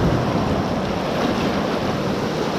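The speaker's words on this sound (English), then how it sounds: "You getting splashed around by the waves?" Ocean waves splash and wash at Old Orchard Beach in Maine, a loud, steady, close surf roar with wind buffeting the microphone and no voices.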